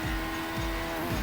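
A Formula 1 car in a racing video game, 2019 Chinese Grand Prix, entering the pits: a steady, close engine drone with tonal whine and rhythmic low pulses, no voices.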